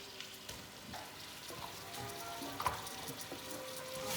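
Sausage meat frying in a pan for a ragu, a steady close crackling sizzle with small spits and pops running throughout.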